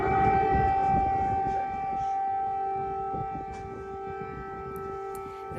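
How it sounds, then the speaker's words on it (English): Air raid sirens blare across Kyiv in a steady, sustained wail with layered tones, sounding loud and continuous across the whole stretch with no voices. "The sound of air raid sirens blaring across the capital"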